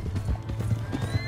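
A horse in the Red Dead Redemption 2 video game clops along with steady, close hoofbeats and gives a short neigh partway through, while game ambience plays underneath.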